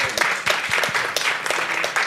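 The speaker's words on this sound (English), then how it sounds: "Maybe one more round of applause for our panelists who chose to be here today." Dense audience applause for a panel at Davos 2025, many hands clapping together in a loud, steady patter with a few voices mixed in.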